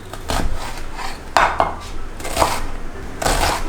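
A knife mincing vegetables on a cutting board, with several quick, crisp chopping knocks in uneven bursts, close and clear, and no talk over them.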